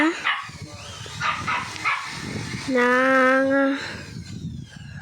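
A dog barks a few times close by, then lets out a long, drawn-out whining howl before barking again.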